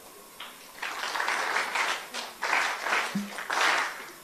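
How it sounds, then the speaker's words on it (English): Conference audience does a rhythmic group clap in three bursts of dense clapping separated by short pauses, moderately loud and close, with brief murmurs between. "Let's do the 3 factorial clap"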